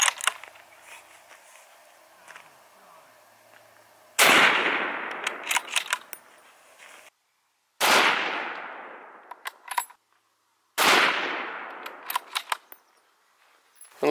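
A .308 rifle firing into a hay bale: three loud, sharp shots spaced a few seconds apart, each with a long decaying echo, over faint background noise and no talk.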